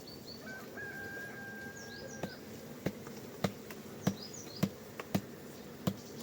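Honeybees give a faint, steady buzz around hive frames during an October mite treatment, with occasional sharp clicks from handling the frames.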